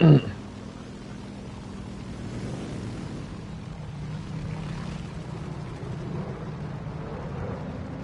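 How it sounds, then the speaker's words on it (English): A J-22 fighter plane engine in the War Thunder video game drones as a steady low propeller hum throughout, fairly loud and continuous, with a brief burst at the very start. "little J-22 is a cool little plane."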